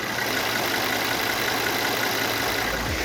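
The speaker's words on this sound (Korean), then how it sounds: "이어서 엔진룸 열고 엔진 소리 한번 들어보시고 차량 마무리하도록 하겠습니다" A Mercedes-Benz CLS engine idles steadily with the hood open, a constant even hum heard close and alone.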